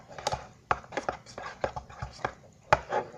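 Jelly cube slime is mixed with glue using a mixing tool, giving a series of sharp wet squelching clicks and thuds in an uneven rhythm, close and fairly quiet.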